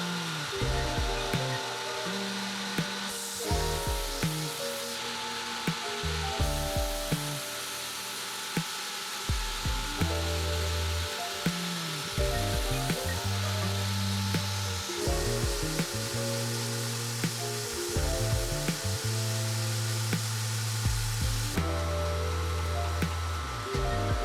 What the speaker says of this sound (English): let's get set up on the grinder and get this done